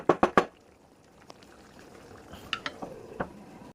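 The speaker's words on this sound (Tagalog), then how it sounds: "Bukulo na siya ulit." A pot of bottle gourd (upo) soup with meat bubbles on the stove, with a few sharp pops up close at first, then a low simmer broken by scattered small bursts and clicks.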